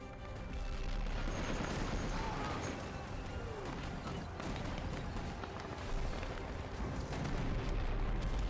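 Bombing explosions rumble in the war strategy game Hearts of Iron 3, playing as Italy during the Siege of Leningrad: a continuous, fairly faint wash of booms and artillery-like thuds throughout.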